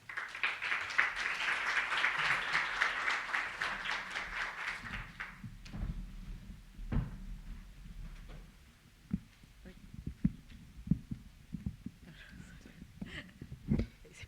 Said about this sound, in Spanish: Por favor, recibámoslos con un aplauso.